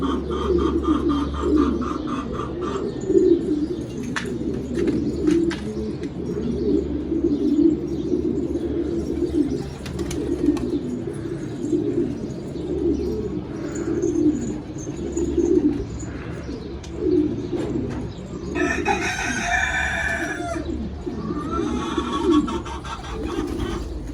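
Pigeons coo nearby in a steady low chorus while birds return and fly overhead, with a brief burst of chirping and a flutter of wings toward the end.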